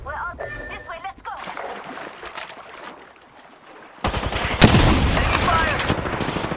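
Gunfire in Apex Legends during a Season 8 match: scattered shots early, then a loud, sustained burst of automatic fire with explosions, mixed with game voice callouts.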